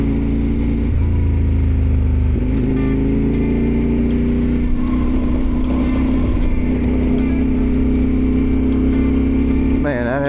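A CFMoto Ibex 800T motorcycle engine drones loud and close throughout as it rides a rough gravel road, with pitch shifts as the throttle changes and a rider's voice over the top.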